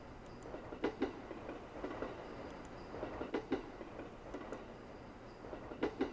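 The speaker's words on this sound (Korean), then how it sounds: "기차가 나를 기다리고 있었다." A train at a deserted station in a Japanese ghost-story horror game gives off a steady low rumble of rolling wagons, with regular clickety-clack wheel beats repeating about every second and a half, moderately quiet and with no voices.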